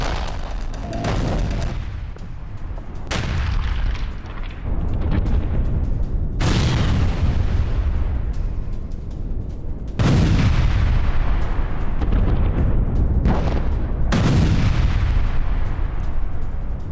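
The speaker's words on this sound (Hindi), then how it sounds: "रूसी आर्टिलरी से अटैक हुआ और कैसे यूक्रेनी काफिला उस दौरान बचकर निकला" Russian artillery fire strikes near a Ukrainian convoy at Chasiv Yar: five heavy booms spaced a few seconds apart, each a sharp blast trailing into a long rumbling decay, loud and close.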